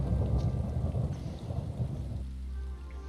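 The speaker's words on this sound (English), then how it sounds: "The thunder in this game sounds so real" Thunder rumbling through a rainstorm in a video game, a deep rolling roar over steady rain that eases off toward the end, no talk.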